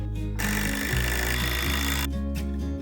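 Power tools prying a wooden pallet apart on sawhorses outdoors, a loud sustained mechanical whine with shifting pitch, near and dominant, briefly easing at the start and end.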